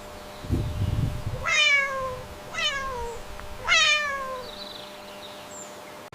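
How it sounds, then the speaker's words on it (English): A cat meows three times in a row, each call a clear, drawn-out rising and falling cry, fairly close, with a brief low rumble just before the first. "It's a cat."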